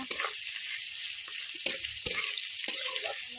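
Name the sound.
onions frying in a pan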